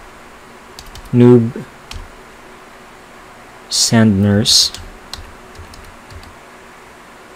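Quick bursts of clicking keys on a computer keyboard as a URL is typed, two short clusters with quiet gaps between them, while a person speaks nearby.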